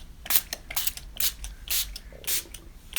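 Several short hissing bursts of ink spray, close and fairly loud, coming in quick uneven pulses with brief pauses between them.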